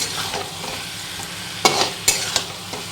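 Spiced chicken being mixed and browned in a hot pan, a steady close sizzle with a few sharp spatula scrapes and knocks near the end, no talking.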